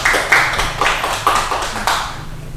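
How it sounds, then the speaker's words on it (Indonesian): Classroom applause for a student: a short burst of hand clapping from a small group, close and loud, in several quick uneven waves over a couple of seconds, with no talk. "Tepuk tangan buat Mbak Desi."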